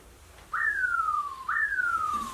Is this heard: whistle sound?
yes